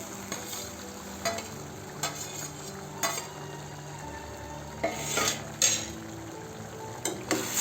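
A spatula stirs fried jackfruit bhaji in a pan, with a soft sizzle underneath and a series of scraping knocks and clinks against the metal every second or so.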